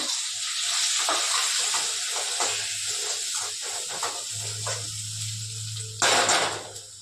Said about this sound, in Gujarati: ચાલો હવે ડુંગળી નાખી દઈએ.